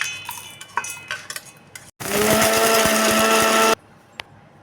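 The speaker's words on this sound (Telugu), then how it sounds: "ఈ మొత్తాన్ని మిక్సీ వేసేసుకోండి" Scattered kitchen clatter, then a mixer grinder grinding spices roars loudly for under two seconds and stops abruptly, followed by quiet with a faint tap.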